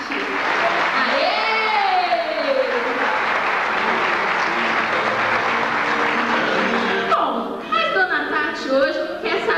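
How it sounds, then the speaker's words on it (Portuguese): Audience at a theatre show put on by a disability association, clapping and cheering steadily throughout, a dense close crowd of applause with shouts and a voice rising over it near the end. "Uma salva de palmas para Dona Tati."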